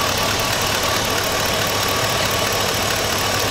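A 2000-2006 Chevy GMC truck engine idling with a cylinder three misfire and a suspected fuel injector fault, a steady rough rumble with an uneven shake, close and alone.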